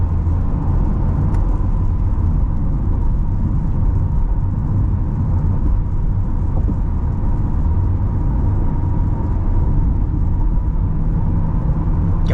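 A Chevrolet Corvette C8 driving and accelerating, a constant low engine and road rumble heard from inside the cabin, steady and loud throughout with no talking.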